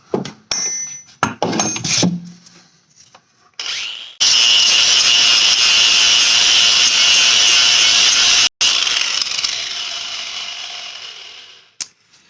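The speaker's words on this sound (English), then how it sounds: "And then we will go ahead and start to sand the tips." The tips of a slingshot made from a metal figure-8 descender are sanded, first in a few short scraping strokes and then in a long, loud, steady grinding run that briefly cuts out and tapers off.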